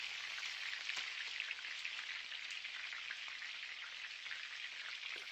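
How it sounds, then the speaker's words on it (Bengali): Paneer and pointed gourd fritters fry in oil, giving a faint, even, continuous sizzle with a few small crackles, steady from start to finish. "এইরকম ভাবে উল্টে পাল্টে সবগুলো ভেজে নেব।"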